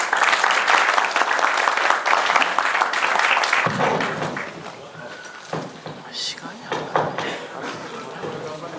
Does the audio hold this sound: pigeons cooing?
no